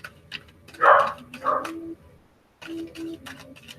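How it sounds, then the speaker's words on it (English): Dogs bark indoors nearby: two sharp barks stand out early, followed by quieter, scattered yips and ticking noises with short pauses between them. "I don't know why my dogs are barking."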